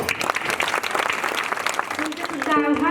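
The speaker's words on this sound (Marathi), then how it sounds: "म्हणून यांच्यासाठी टाळ्या." Audience at a kirtan gathering clapping together in a dense, lively burst, with a voice starting to speak over the clapping near the end.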